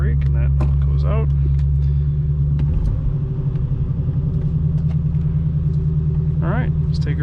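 Unrestored 1969 Shelby GT 350 four-speed convertible engine fast idling: a steady, close, low rumbling drone that runs throughout, with a voice briefly at the start and again near the end.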